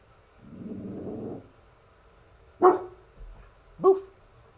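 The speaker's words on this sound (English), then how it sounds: "Dog." Two short, sharp dog-like woofs come close together near the end, loud and close, after a quieter low rumble and with no talk over them.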